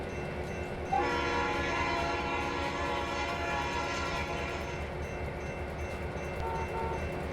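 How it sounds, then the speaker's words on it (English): In a train simulator game, a locomotive horn sounds a long, sustained blast over a constant rumbling engine background. The horn stays steady and moderately loud to the end. "Hey, don't honk your horn at me."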